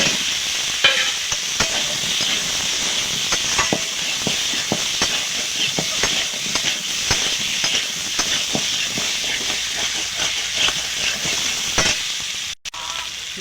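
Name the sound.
potatoes frying with onion, garlic, ginger and tomato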